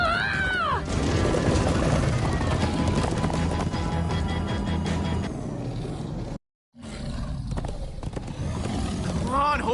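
Horses in Minecraft Story Mode galloping with rapid clip-clop hoofbeats, joined by a whinny and roaring sounds, with voices shouting over them and a brief dropout near the end.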